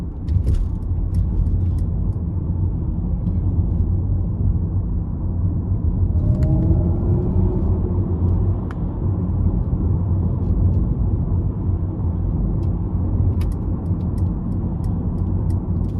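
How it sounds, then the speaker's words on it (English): Mercedes-Benz EQS 450+ electric car, a 2022 rear-wheel-drive model, driving on the road: a steady, continuous low synthetic drive hum and rolling road rumble, even and sustained throughout at a moderate level. "I love just how it sounds like an actual Mercedes"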